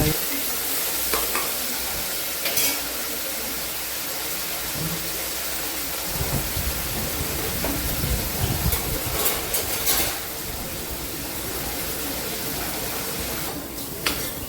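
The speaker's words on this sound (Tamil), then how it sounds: "வெங்காயம் நல்லா வதங்கினதும் தக்காளியை சேர்த்து நல்லா வதக்கிக்கணும்" Onions and tomatoes sauté in a pan while a utensil stirs them, with a continuous sizzle and repeated scraping and clatter close by, the stirring growing busier partway through; no one speaks.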